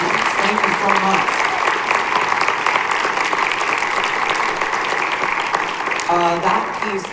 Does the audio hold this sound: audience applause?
yes